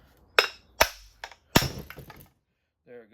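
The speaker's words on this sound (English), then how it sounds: "give it a little smack with a hammer" Sharp metallic hammer smacks on a flywheel puller fitted to an old 1999 Husqvarna 394 chainsaw, several distinct close strikes with ringing tails in a workshop, the last blow freeing the part, with faint talk near the end.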